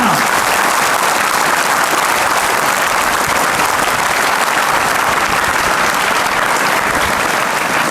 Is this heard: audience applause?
yes